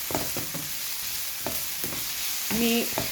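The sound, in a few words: onions sauteing in frying pan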